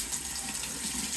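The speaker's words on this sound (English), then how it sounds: "It's important before you interact with food that you wash your hands. Warm water," Warm water runs steadily from a sink tap while hands are washed before handling food, a continuous close hiss and splash with no talk over it.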